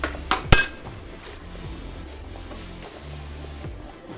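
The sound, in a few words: stirring drumstick leaves in a cooking pot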